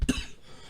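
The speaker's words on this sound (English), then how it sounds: "Why am I coughing?" A man lets out a single short cough up close, a sharp burst fading into quiet room noise.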